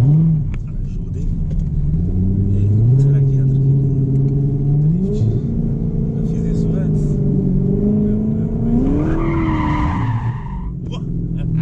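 A Corvette revs and drifts, its engine note rising and falling loudly while tires squeal near the end, with a voice talking over the engine.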